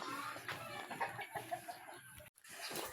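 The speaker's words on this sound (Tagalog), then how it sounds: "Dito tayo dadaan sa may manukan mga idol." Chickens clucking at a chicken coop, steady overlapping clucks and a rooster-like call amid busy outdoor farm ambience, fairly close and continuous throughout.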